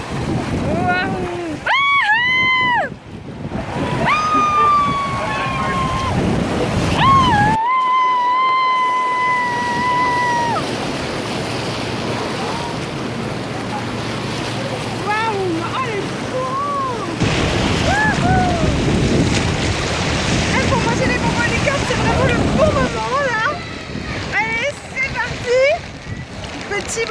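Rushing river water near a waterfall makes a constant loud roar mixed with wind buffeting. Excited voices talk and shout with high, sliding cries over the continuous noise.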